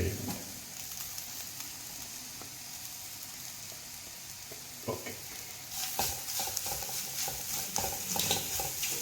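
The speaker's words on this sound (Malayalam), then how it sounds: "തേങ്ങ ചിരകി വെച്ചത് തേങ്ങ ചിരകി ആഡ് ചെയ്യുന്നുണ്ട്" Grated coconut is stirred and fried in a pan, giving a steady sizzle with scraping stir strokes that grow louder and busier in the second half.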